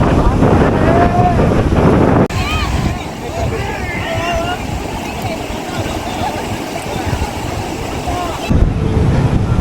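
A speed boat rides out on the sea off Mandarmani beach, loud wind buffeting the microphone over rushing water and engine drone, with faint voices mixed into the roar.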